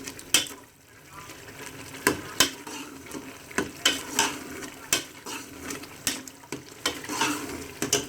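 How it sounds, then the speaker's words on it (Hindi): Turnip and meat for shaljam gosht frying in a pan while being stirred, with a steady sizzle and a string of sharp scraping, clinking utensil strokes at an uneven rhythm, close up, no speech. "फ्लेम को मैंने ऑन कर दिया और इसकी अच्छी तरह 4 से 5 मिनट तक बुनाई करेंगे।"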